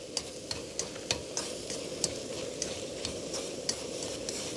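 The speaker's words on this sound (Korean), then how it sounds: "이렇게 볶아주세요" Egg and napa cabbage stir-fried in a frying pan: a continuous close sizzle broken by regular sharp scrapes and taps of a utensil against the pan.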